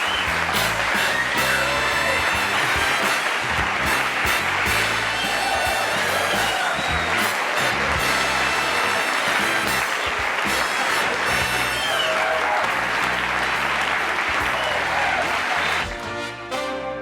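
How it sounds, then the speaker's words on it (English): A 1984 television talk-show studio audience gives sustained, dense applause that runs loud and even for about sixteen seconds before tapering off, with a few faint voices mixed in. "I'm humbled by that applause."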